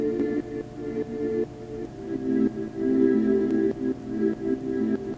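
A soft ambient synth pad, chopped up, plays in short segments cutting in and out in an uneven rhythm, with no talking.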